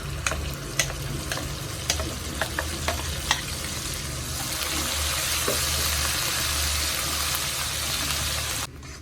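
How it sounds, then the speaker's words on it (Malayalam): A ground spice paste is stirred into frying tomato pickle with curry leaves, a loud continuous sizzle broken by several sharp spoon scrapes early on, then a steady hiss that cuts off near the end. "അരച്ചു വെച്ച കൂട്ട് ഇതിലിട്ട് ഇളക്കി കൊടുക്കാം."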